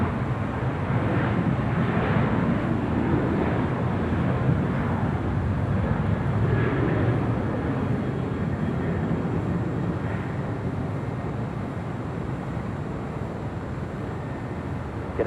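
A 747-8 cargo jet on a south side arrival at LAX approaches with a broad, steady roar of engine noise mixed with wind rumble, fading gradually over several seconds.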